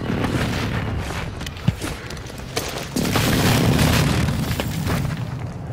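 Heavy airstrike explosions in Warzone 2 rumble as a continuous loud booming barrage, with sharper pops and bursts mixed into the dense roar.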